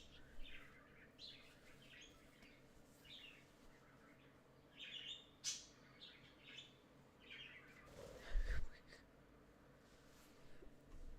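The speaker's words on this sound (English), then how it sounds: "you're just gonna have to deal with bird noises while this goes on" Several birds chirp and tweet outside, faint and somewhat distant, in scattered short calls with a louder burst near the end, under a low hum of indoor background noise.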